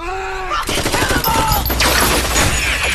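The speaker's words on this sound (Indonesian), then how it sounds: "Baku tembak yang sengit pun tidak bisa terhindarkan." A gunfight in a film shootout goes off in a dense burst of rapid gunshots, loud and close, that runs without a break, with faint voices under the firing.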